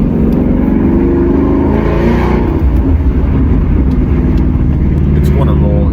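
A Roush-tuned 2017 Ford Mustang GT with a 500 bhp V8 runs with a loud, deep, throbbing engine note that rises and falls while someone talks over it.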